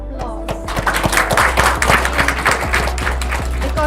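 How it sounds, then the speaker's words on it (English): Audience at a women's confidence summit bursting into applause, dense rapid clapping from many hands over a low steady hum, fairly close and lasting a few seconds. "And now please give each other applause."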